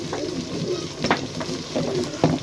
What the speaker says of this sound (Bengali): আদা রসুন পেঁয়াজ মরিচ সব কিছু দিয়ে একসাথে ভাজছি।